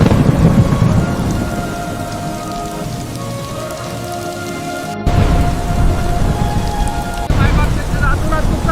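Heavy rain pours down in a loud, continuous roar, with low rumbling thunder underneath and a brief break in the sound midway.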